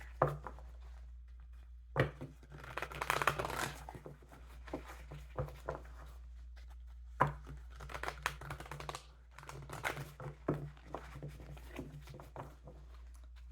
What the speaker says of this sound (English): My difficult deck to shuffle.